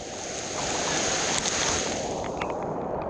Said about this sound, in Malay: Tengah hujan